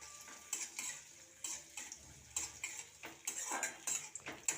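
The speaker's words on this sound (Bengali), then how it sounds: "গরম হয়ে গেছে, এবার কাজু কিশমিশটা ভেজে নেবো।" Cashews and raisins fry in ghee in a wok, heard as repeated scraping and clicking strokes of a spatula against the metal over a faint, soft sizzle.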